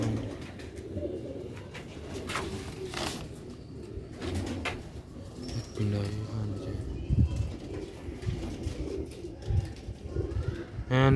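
Rooftop pigeons coo in soft, repeated throaty calls close by, mixed with occasional chirps and the low hum of an outdoor setting.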